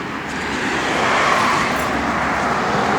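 A 1969 Dodge Dart Swinger drives down the road, heard as a steady, loud rumble of engine and road noise with wind that holds even for the whole stretch, no voices.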